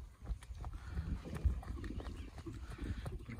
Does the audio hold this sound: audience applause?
no